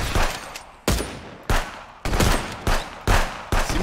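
Loud, close gunshots in the Contraband Police video game, about seven sharp blasts at uneven intervals, each with a short decaying tail, and no talk.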